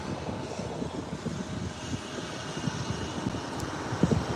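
An Alaska Airlines Boeing jet in a 100-year livery taxis or passes at LAX, bound for Seattle, giving a steady, moderate engine rumble with wind noise and a few faint clicks, and no speech.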